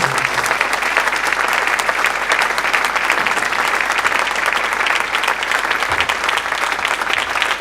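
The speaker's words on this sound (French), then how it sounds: "we plead you to applaud for us" Steady, dense applause from a congregation at a church's 20th anniversary service, loud and sustained without a break.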